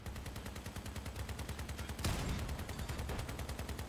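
Continuous rapid weapon fire from armed vehicles in the Crossout combat game, a dense machine-gun-like rattle that swells louder with a heavier burst midway, with no talking.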